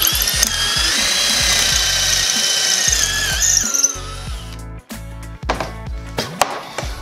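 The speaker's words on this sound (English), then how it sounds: "I'm gonna put these into the pocket hole jig and drill the hole so we can fasten these to the cabinet" Power drill boring angled pocket holes through cabinet stock held in a pocket hole jig, a loud steady whine for about four seconds before stopping, followed by clattering knocks and handling of wood.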